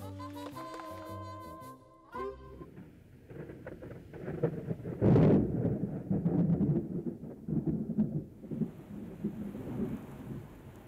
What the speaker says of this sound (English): I think that was thunder. It looks like it's going to rain.